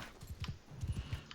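Horse hooves in Mount and Blade 2 Bannerlord clop in a quick, rhythmic run of soft beats, fairly faint and alone.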